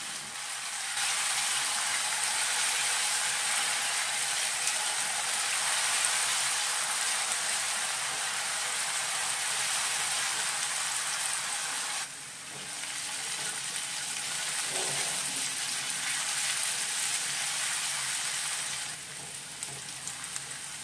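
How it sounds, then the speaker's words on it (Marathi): Ginger, garlic and chilli paste with onion sizzles in hot oil while being sautéed for a prawn curry, a loud continuous frying hiss that briefly dips and stays steady throughout with no talk. "आलं लसूण मिरचीची पेस्ट एक चमचा गोल्डन कलर येईपर्यंत परतवून घ्या"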